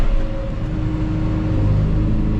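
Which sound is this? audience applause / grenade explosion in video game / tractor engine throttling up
tractor engine throttling up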